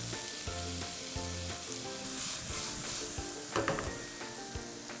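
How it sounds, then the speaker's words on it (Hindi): Chopped onions sizzle in hot oil with crushed cumin, coriander and ginger for aloo shimla mirch, a loud steady frying hiss with a few stirring scrapes over soft background music. "इसके अंदर जाएगा प्याज"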